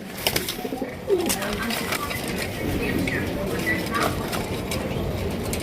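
Damascene pigeons coo softly and repeatedly in the background under a steady hiss of ambient noise, with someone talking over them.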